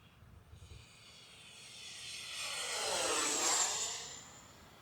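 A 64mm EDF Arrows Marlin RC sport jet makes a high-speed pass, its ducted-fan whine rising steadily from faint to loud, peaking near and overhead, then beginning to ease, heard alone over light outdoor background.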